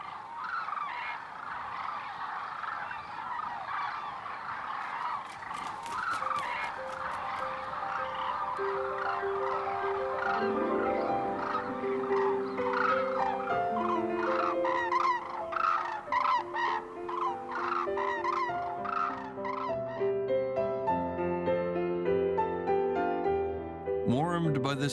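A colony of wintering cranes at Izumi, Kagoshima, Japan calls in a morning chorus, with many overlapping trumpeting and bugling cries, some near and some distant. A narrator speaks softly over the birds.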